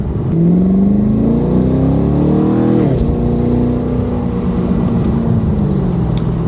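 A Chevy SS V8 with a Roto-Fab cold air intake while driving, a loud close engine note rising through the revs, easing briefly, then settling into a steady drone with intake growl.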